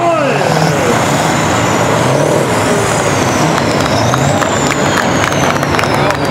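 Kirovets K-700 tractor engine revving on command, a loud, dense, continuous engine roar at close range, with crowd noise and a voice heard faintly beneath it.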